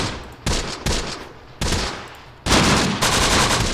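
A .30 cal machine gun team in Close Combat: The Bloody First, during a night battle in Operation Husky, firing several loud, close, rattling bursts in quick succession with short gaps between, no voices.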